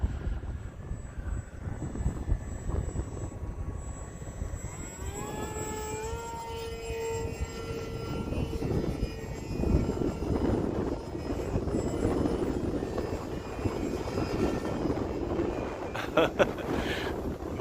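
The electric motor of a Hobbyzone Aeroscout RC airplane whines in flight, rising in pitch as the throttle goes up against gusty wind. Steady wind buffeting on the microphone rumbles underneath.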